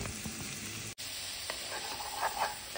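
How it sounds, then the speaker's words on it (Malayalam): Three thinly sliced onions sautéing in oil for chicken curry, producing a quiet steady sizzle with a brief dropout near the start and faint stirring taps later. "ഇതിലേക്ക് ഞാൻ 3 ഉള്ളി നെറുങ്ങനെ മുറിച്ചതും കൂടി ഇട്ട് കൊടുക്കുന്നുണ്ട്."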